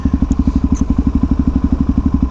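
A motorcycle engine idles or runs at low revs nearby, its loud, steady rapid pulsing beat continuing throughout with no talk over it.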